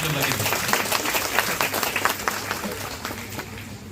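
Loud applause from an audience at a tribal women's gathering in Assam, a dense steady wash of clapping throughout with voices faintly mixed in.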